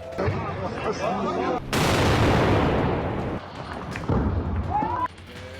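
A broadband explosion bursts and rumbles for several seconds over a wailing siren, followed by further blasts and sharp bangs, with voices and other sounds around it.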